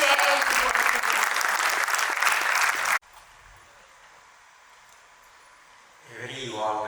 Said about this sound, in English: with a huge round of applause, let us welcome him on stage to share his work with us